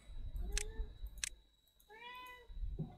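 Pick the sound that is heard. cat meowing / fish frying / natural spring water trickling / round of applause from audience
cat meowing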